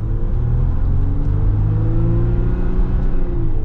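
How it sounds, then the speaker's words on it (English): A 2020 Jeep Wrangler Rubicon with the EcoDiesel engine accelerates hard, its loud, close diesel drone rising steadily in pitch under a constant rumble, with no talk. "We are going to officially get our acceleration here with this Eco-Diesel Wrangler"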